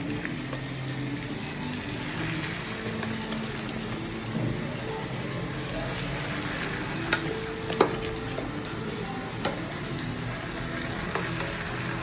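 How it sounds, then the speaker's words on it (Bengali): Mutton sizzles and is stirred in a hot pan during kashano in a home kitchen, a steady close frying hiss with scattered scraping clinks of the spatula throughout. "এখন মাটনটা দিয়ে আরও কষাবো।"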